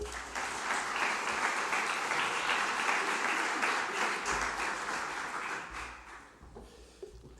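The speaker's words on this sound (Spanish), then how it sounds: "Un aplauso y muchas gracias." An audience applauds at the official opening of a conference in Logroño, Spain, with dense, sustained clapping that gradually thins and fades out toward the end.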